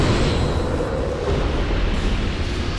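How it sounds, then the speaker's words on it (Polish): A sustained, roaring explosion in the Dark Souls 2 Scholar of the First Sin video game, loud and dense throughout with a broad rumbling wash and no talk. "Te eksplozje mogę go zabić"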